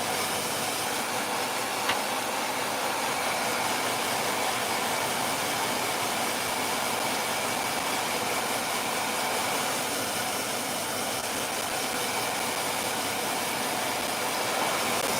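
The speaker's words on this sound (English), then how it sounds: "So I don't think this is going to dry very good, very fast with a hairdryer." A hair dryer blows with a steady, loud, continuous whoosh from start to finish, drying paint, no voices over it.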